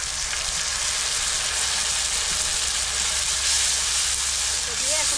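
Garlic and cumin paste fries with onions in a pan, giving a loud, continuous, hissing sizzle close up for the whole stretch, with a faint voice briefly underneath.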